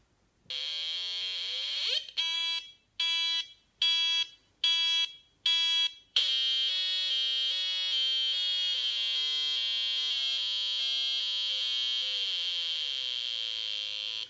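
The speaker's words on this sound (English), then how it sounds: "the soundboard is now switching two frequencies back and forth" Bright electronic tones from a DIY synthesizer kit, steady at first, then pulsing in short rhythmic bursts, then a sustained tone that wavers between two pitches; no talking.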